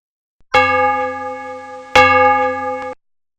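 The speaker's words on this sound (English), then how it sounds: "The sound of the clock." A clock chiming two loud, clear strikes, each a rich ringing tone with long harmonic sustain fading before the next, ending abruptly.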